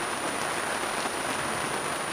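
Rain falling at sea on a sailing boat near the coast, a steady dense hiss of drops pattering on the deck and surfaces, constant and fairly loud with no voices.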